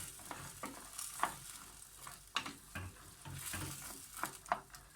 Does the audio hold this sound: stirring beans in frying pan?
yes